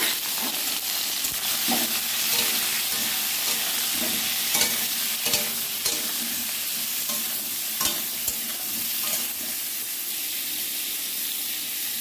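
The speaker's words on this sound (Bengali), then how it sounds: "পটলগুলো ভাজা হয়ে গেছে এবার নামিয়ে নেব" Pointed gourd (potol) frying in hot oil in a wok with salt and turmeric, giving a steady loud sizzle with occasional stirring scrapes throughout, no voices.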